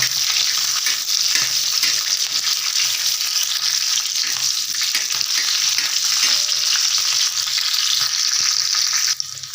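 Green chillies fry in hot oil in a pan, a loud, steady sizzle running throughout with stirring scrapes mixed in and no talking.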